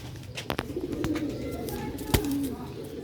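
Pigeons of a Sialkoti breed coo softly nearby in low, throaty calls, with a few sharp clicks and background noise around them.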